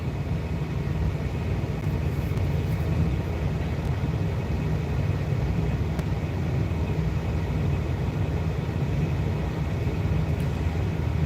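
A parked truck at the Springfield terminal idles with a steady low rumble and constant broadband hum, loud and unchanging throughout, with air conditioning running.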